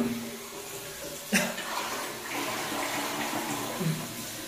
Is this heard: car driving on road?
no